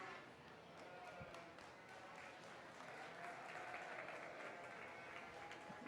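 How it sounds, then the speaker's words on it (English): Spectators at a 4-H sheep show applaud the Hampshire sheep exhibitors, faint and distant clapping from a crowd in a large arena, with a low hubbub beneath. "Give your Hampshire exhibitors a nice applause,"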